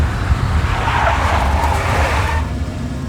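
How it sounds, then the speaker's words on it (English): A big black Mercedes in the Max Payne video game, with a loud, steady engine roar and tire noise held close throughout, swelling slightly in the middle and easing toward the end. "A big black Mercedes."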